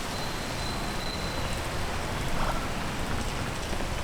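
Rain falls steadily in the video game Peak, a constant, dense hiss of rainfall at moderate volume throughout, with no voices over it.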